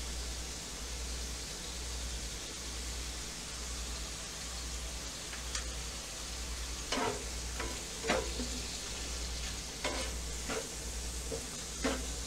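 Shrimp fry in a cast iron pan as a steady broadband sizzle, with sharp scraping stir clicks and taps joining in the second half, close and fairly loud, with no voices.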